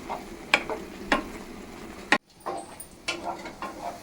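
Meal maker soy chunks frying dry in a pan, with a soft continuous sizzle broken by several sharp scraping stirs of the spatula, then a brief hush before more stirring scrapes.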